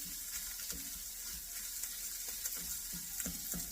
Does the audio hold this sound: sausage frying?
yes